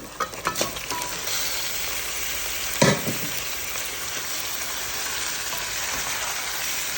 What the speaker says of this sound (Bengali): রান্না করছি সরিষার তেল দিয়ে মুরগির গোশত